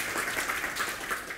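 A short burst of audience applause at a tech talk, steady massed clapping heard as a continuous close wash of sound with no voices.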